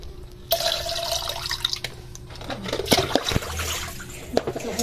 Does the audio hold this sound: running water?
yes